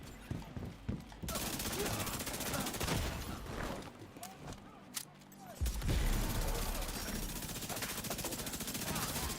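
Rapid SMG fire in The Division 2 pours onto a heavily armored boss in a sustained, dense burst that runs for several seconds, loud and close, with game sounds mixed in.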